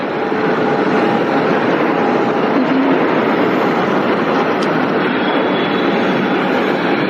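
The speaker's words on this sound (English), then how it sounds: "The plane!" A passenger airplane at Gatwick airport gives a loud, steady jet-engine roar that holds unbroken throughout.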